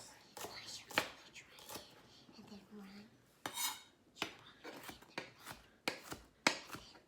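Celery being finely chopped on a board for a tuna melt, a series of distinct knife strikes in an uneven rhythm, fairly close and soft, with a brief low murmur in between.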